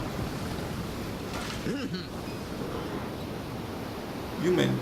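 A cursed storm at sea in the game Pyre, with a steady roar of wind and surging waves, loud and constant, swelling near the end, with brief voice-like sounds over it.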